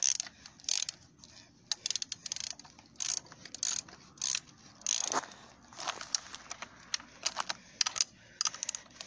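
A ratchet clicks in short, close bursts while tightening a spring compressor on a BMW E46 (330d/330xd) shock absorber spring. The clicking is crisp and stop-start, with quiet gaps between strokes.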